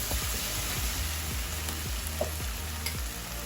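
Tomatoes cooking in a pan over a high flame for a prawn thokku, giving a steady close sizzle and frying hiss with small irregular pops throughout.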